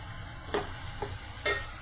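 Spices with turmeric and salt fry in a tomato curry over a medium flame, a soft continuous sizzle broken by a few short scraping stirs, close and quiet with no talking.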